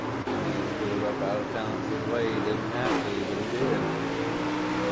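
Late model race cars roar around a dirt track, engines revving and accelerating in a steady loud drone with a car sweeping past, while a commentator talks over the noise throughout.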